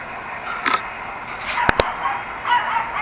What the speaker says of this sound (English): Look, the killer neighbor dog spotted Jackie